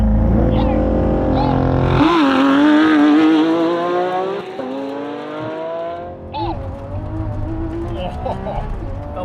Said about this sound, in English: Oh, the launch is so brutal.